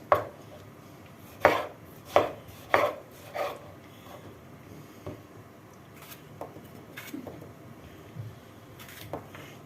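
A knife cuts a tomato for garnish on a board, giving several sharp knocks spaced about a second apart, then softer, scattered taps and light kitchen clatter in a quiet room.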